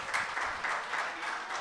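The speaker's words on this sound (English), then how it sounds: "keep that clapping going for Tracy Chow, ladies and gentlemen" Live-show audience claps for a speaker in a brief, steady burst of moderate, somewhat distant applause.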